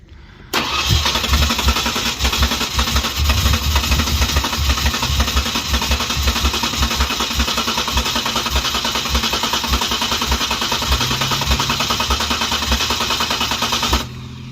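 A 1992 Ford Ranger with a newly installed 3.0L engine cranks and fires up, then runs rough and loud with a rapid, uneven chugging for about thirteen seconds before shutting off, heard up close with no speech.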